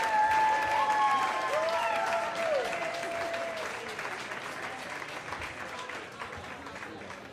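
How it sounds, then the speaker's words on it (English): A crowd applauds a speaker taking the stage, the clapping starting full and slowly thinning and fading, with some tonal sounds and a little voice under it. "give a big, huge round of applause to Fu Ding"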